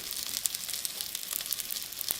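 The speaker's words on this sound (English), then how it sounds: "My onions and the chile still need a little bit more love, so I'm going to cook them a little bit longer." Onions and chile sizzle steadily in a pan of bacon fat, a close, continuous crackling hiss with small pops throughout.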